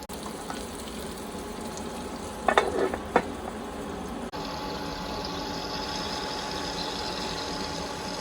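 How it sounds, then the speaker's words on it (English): Blackened mahi fillet frying in a hot skillet under a lid, a steady broadband sizzle running throughout, with a few brief clattering clinks near the middle and a slight shift in tone partway as the pan settles. "And then I'm going to lay this also into the skillet."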